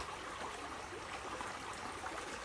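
Creek water flowing along its banks in the deer woods, a faint, steady hiss and trickle with no pauses, distant and quiet.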